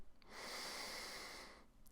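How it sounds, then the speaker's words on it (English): A single slow inhale through the nose during a yoga flow for opening the side body: a soft, steady airy breath lasting just over a second, close and quiet, with no talking. "Now inhale through your nose."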